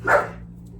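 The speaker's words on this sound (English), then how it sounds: "Damn dogs. They bark at the drop of a dime." A single short, close bark from a dog, one of several that set each other off, fading quickly over a low background hum; no speech.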